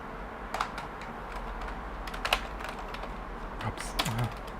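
Fingers tap on a computer keyboard during a Linux command-line session, producing scattered soft clicks and short bursts of keystrokes, faint and close over a low hum.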